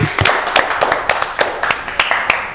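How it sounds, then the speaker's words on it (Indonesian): Hand clapping from a small group during a film cast talk show, loud and close with distinct, irregular claps rather than a dense roar, a few hands striking in loose rhythm. "tepuk tangan"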